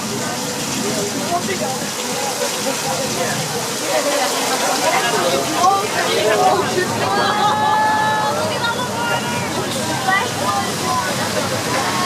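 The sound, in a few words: flash flood water effect on a studio tour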